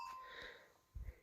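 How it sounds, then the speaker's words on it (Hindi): A bell on a cow's neck in a hill village gives a faint metallic ring that fades away, followed by a soft low thump, quiet and distant. "टड़ंग टड़ंग टड़ंग घंटी सुनाई दे रही है"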